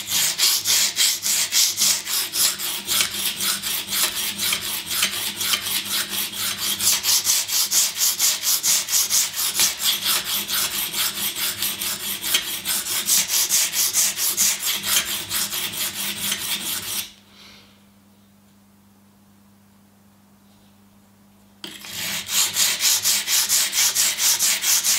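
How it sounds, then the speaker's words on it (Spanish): A Spyderco Endura 4 folding knife blade is worked on a flat sharpening stone, producing a steady, close, rhythmic rasping scrape of repeated strokes that stops for a few seconds near the end before resuming. "qué mejor forma de corregirlo que con una placa plana, con una piedra plana, con abrasivos planos y sólidos"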